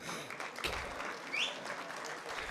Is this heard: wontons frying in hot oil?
no